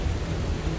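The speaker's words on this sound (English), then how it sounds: "the rain is just started. It's pretty heavy." Heavy rain pours on a sailing boat during a dark, stormy night with strong gusting wind, a dense continuous roar with no voices.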